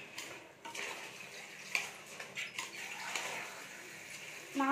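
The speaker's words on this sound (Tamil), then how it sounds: "அரிசி ஆட் பண்ணிவிட்டு இந்த மசாலா கூட நல்லா இந்த மாதிரி கலந்து விட்டுருங்க" Rice is stirred into masala in a cooking pot for egg biryani, making faint, scattered scrapes, clinks and light clatter of the spoon against the vessel. The sounds are close but quiet, with small irregular knocks.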